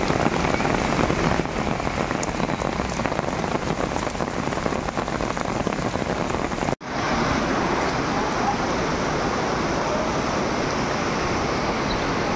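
Heavy rain keeps pounding down by a swollen riverbank, a loud, steady wash of drops that drops out for an instant midway before resuming just as dense.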